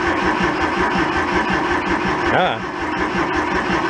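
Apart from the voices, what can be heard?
abandoned Kubota tractor engine starting and idling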